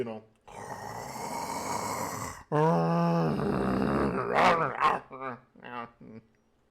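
A human voice imitates very loud snoring in long rasping snorts, close and exaggerated, mixed with speech during a tabletop role-playing game session.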